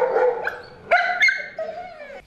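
Training dogs bark and yip in short, loud bursts, several sharp barks followed by a higher whimpering tone, close by, with no talk over them.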